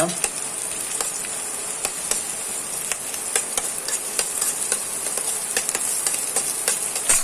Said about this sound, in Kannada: ಅರ್ಧ ಈರುಳ್ಳಿ ಮತ್ತು ಬೆಳ್ಳುಳ್ಳಿಯನ್ನು ಇಲ್ಲಿ ಹುರಿಯುವ